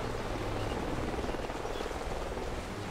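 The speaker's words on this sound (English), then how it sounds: "Sounds like a chopper's up ahead of us." A helicopter in Call of Duty Ghosts flies nearby, its rotor thumping as a continuous broadband roar with a rapid chop, fairly quiet and steady with no talk over it.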